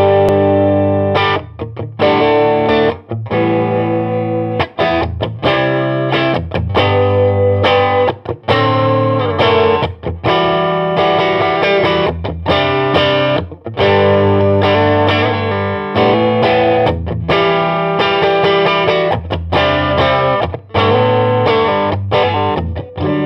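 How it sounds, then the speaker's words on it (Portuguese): An electric guitar runs through an Ibanez Tube Screamer Mini overdrive pedal with the drive set around nine o'clock, playing loud, continuous crunchy chords and riffs with brief gaps between phrases. "Então bora sacar o Tube Screamer versão mini."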